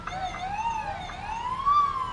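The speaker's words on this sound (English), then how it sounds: "Love all the sirens." Fire truck sirens wailing in a Fourth of July parade in Columbus, a single rising and falling tone at moderate distance, fairly faint over the street background.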